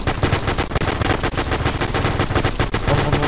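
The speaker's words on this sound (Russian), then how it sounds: "Справа у бункера стреляет." Rapid automatic gunfire near a bunker in the ArmA 3 video game, loud and close, a steady hammering stream of shots with no pauses.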